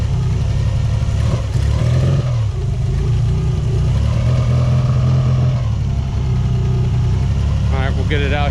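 A Nissan 300ZX Z31 fitted with old injectors runs close by, its engine idling with a rough low rumble and a slight spitting. Voices can be heard talking over it.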